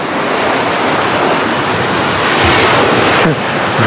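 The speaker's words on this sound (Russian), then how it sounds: "Так-то да, смотрите, прибой," Sea surf rolls and breaks steadily on the beach at Anapa's Dzhemete shore, where the water is murky. The hiss is loud and continuous, with wind noise buffeting the microphone and no voices.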